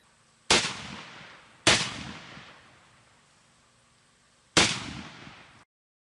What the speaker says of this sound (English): This one's called the Barricade. It's not indestructible, but it will withstand an enormous amount of firepower.